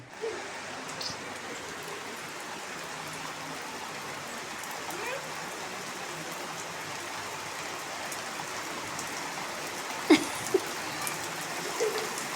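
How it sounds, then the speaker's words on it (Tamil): Heavy rain pours steadily over an outdoor spot where vathal crisps were laid out to dry, a dense even hiss with a few sharp knocks near the end and faint voices in the background. "நல்லா சூப்பராக மழை பெய்யுது."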